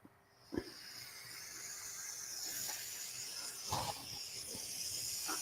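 Meat browns in a ceramic non-stick pan over a camping stove for a Mexican meal, giving a steady, close hiss and sizzle that swells after a sharp clack, with a few light scrapes and taps.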